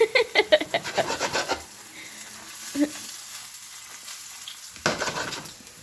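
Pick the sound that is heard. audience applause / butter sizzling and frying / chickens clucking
butter sizzling and frying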